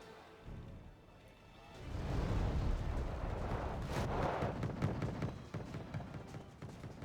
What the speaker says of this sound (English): they're getting hit by mortar fire